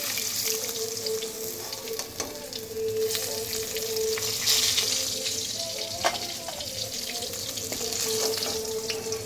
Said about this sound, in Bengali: এরকম সুন্দর করে আমি মাছগুলো ভেজে নেব